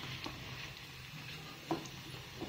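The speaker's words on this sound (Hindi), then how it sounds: "और जो सीड्स है वो क्रैकल हो रहे हैं।" Seeds crackle in hot oil, a faint steady sizzle dotted with small pops and a couple of sharper snaps.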